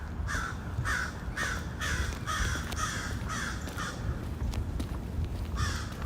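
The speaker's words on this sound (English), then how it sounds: "Oh my god, dude, these crows are losing it. You hear those guys?" Crows caw loudly in a rapid, evenly spaced series of about a dozen harsh calls, close by over a steady outdoor background hum, with no voices.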